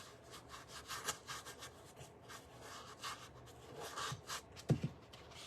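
Close-up scratchy rubbing of a paintbrush scrubbing flat white base coat onto a small Dollar Tree bunny figurine, a quiet, continuous dry bristle scrape in uneven strokes with no voices.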